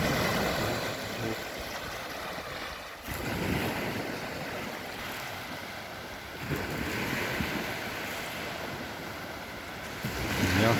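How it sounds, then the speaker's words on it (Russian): Sea waves break steadily on the shore at Kirillovka at dawn, a continuous wash of surf with swells every few seconds, mixed with wind buffeting the microphone. "Волна бьет."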